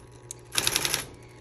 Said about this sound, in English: there's three keys on these electric typewriters that have an auto repeat, meaning that if you hold them down,